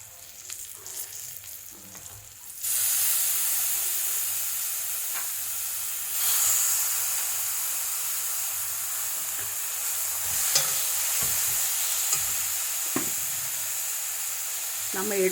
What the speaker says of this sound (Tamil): இப்போ நெல்லிக்காய் போடலாம்.